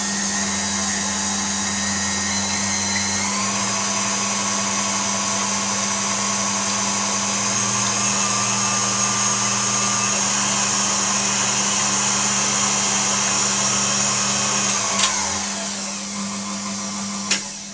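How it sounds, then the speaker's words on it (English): An electric mixer froths egg whites with lemon juice for Christmas cake icing: a loud, continuous motor whine that shifts speed after a few seconds, runs steadily, then winds down near the end, with no talking. "So the first thing I'm going to do is just to start frothing my egg whites a little bit."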